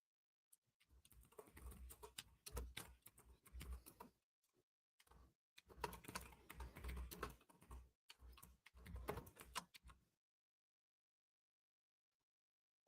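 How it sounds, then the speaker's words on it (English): Loud computer keyboard typing in close, rapid bursts of clattering keystrokes, with a brief pause near four seconds, then silence after about ten seconds. "Yes, it's the loud keyboard again."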